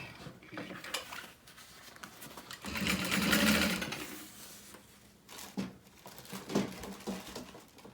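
Sewing machine top stitching a handbag pocket, a fast rattling run of needle strokes in the middle, with starts and stops and light clicks around it, fairly quiet and close.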